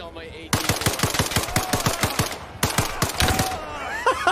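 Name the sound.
machine gun fire in the video game ARMA Reforger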